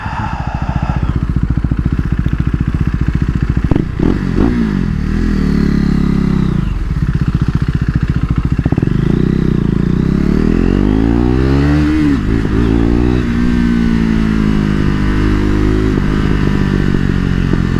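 KTM RC 390 motorcycle heard close up while riding, engine droning loudly and steadily, with rising and falling revs as it shifts down and small exhaust pops crackling through.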